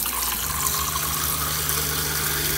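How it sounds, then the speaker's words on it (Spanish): Hot water gushes steadily from a tap in a plumbing job, a continuous broadband rush with a low hum beneath, close and fairly loud, with no voices. "Y ahora sí, vamos a darle al agua caliente."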